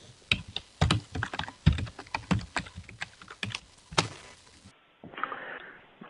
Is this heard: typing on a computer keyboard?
yes